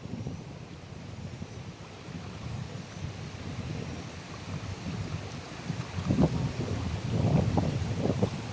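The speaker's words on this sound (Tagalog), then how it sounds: "Umiikot yung tubig dito tsaka bumubulusok, bumubukal." Water swirls and gushes steadily at a clear forest spring, a broad continuous rushing wash that swells louder toward the end.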